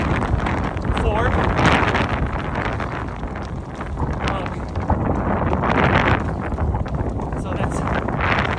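Heavy wind buffets the microphone with a constant low roar and gusty rumble that swells and eases, loud and close throughout.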